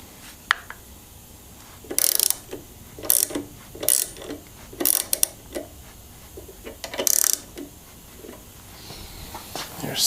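A ratchet cranks the tension adjusters on an Excelsior Henderson Super X motorcycle in short bursts of quick clicking, close and separated by pauses, with faint background noise.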